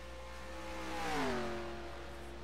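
A race truck in MSCA American Ethanol Truck Series qualifying passes by on track, its engine whine swelling to a peak and dropping in pitch as it goes past, then fading away.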